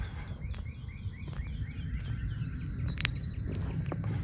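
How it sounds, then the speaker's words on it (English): Birdsong on a pleasant outdoor morning: several repeated chirps and short whistled calls, fairly faint and at a middle distance, over a low rumbling background with no talk. "It is pretty out today, it's a nice day, and the birds sound great."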